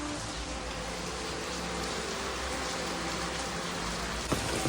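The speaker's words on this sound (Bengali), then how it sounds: "এই দেখো কীরকম বৃষ্টি হচ্ছে আর কি।" Heavy rain falls with wind near a river, a dense, steady, loud wash of rain noise with no break.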